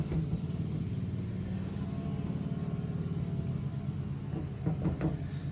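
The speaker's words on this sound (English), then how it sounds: "Some mini bikes driving by." Mini bikes passing outdoors, a low steady engine rumble holding throughout at a moderate distance, with a brief rise near the end.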